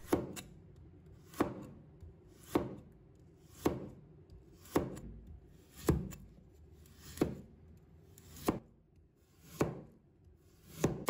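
A knife slices a carrot on a cutting board in about ten crisp, evenly spaced chops, roughly one per second. Each stroke is clear and close against a quiet background.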